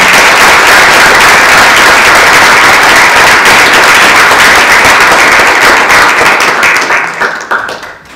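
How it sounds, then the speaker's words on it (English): A crowd at a university panel on Native voices claps loudly and steadily, a dense roar of hands that holds for several seconds before dwindling to a few last claps and silence. "Can we give another round of applause?"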